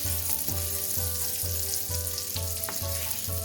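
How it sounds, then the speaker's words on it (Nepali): A small onion with a pinch of salt sizzles steadily in a pan while it is stirred for butter paneer, loud close frying with regular scraping strokes roughly every half second and no talking. "मैले यसमा राखेँ एउटा सानो साइजको प्याज, थोरै नुन राखेँ प्याज राखेर। अब यसलाई चलाइदिउँ।"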